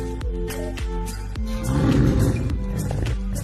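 White tiger at a zoo roaring, several loud deep rumbling growls in quick succession, close and forceful, swelling into a heavier roar midway.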